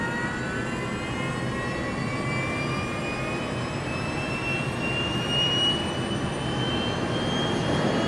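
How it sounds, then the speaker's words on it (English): Ascender spaceplane takes off from an ordinary airfield on its two jet engines, a constant loud roar with a high whine that rises slightly in pitch and holds steady throughout. "Ascender takes off like an ordinary aeroplane from an ordinary airfield using its two jet engines."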